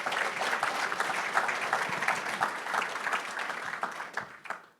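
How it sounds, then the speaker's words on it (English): A panel event audience applauds steadily, a dense wash of many hands clapping at an even level that fades out near the end. "Let's give a giant round of applause to Corey Smith."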